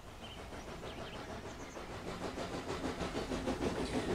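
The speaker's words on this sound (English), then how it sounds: "Percy shunted Thomas over to the shed so that the workman could look him over." Toy train engine shunting another engine to the shed, a soft rhythmic chuffing and rolling clatter with faint squeaks, steady and moderately quiet throughout.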